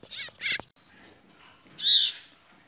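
Huýt cô bird chicks calling from a nest, a few loud, shrill chirps in quick succession, a short pause, then another sharp, close cry.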